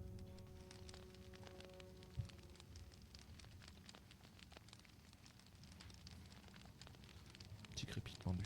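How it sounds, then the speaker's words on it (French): A fire in the Harry Potter and the Philosopher's Stone PC game crackles with faint, scattered pops and ticks over a low, quiet background rumble. "Petit crépitement du feu."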